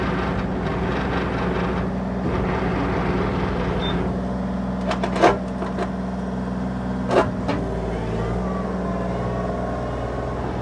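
A 2024 Bobcat E35R2 two-speed mini excavator, a 7,500-pound machine, drives under its own power with a steady low diesel drone and track rumble throughout, plus a few brief clanks partway through.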